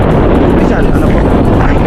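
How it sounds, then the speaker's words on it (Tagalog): Strong wind sweeps across a high hanging bridge in Rizal, a loud, dense, unbroken roar buffeting the microphone at close range throughout. "Lakas ng hangin."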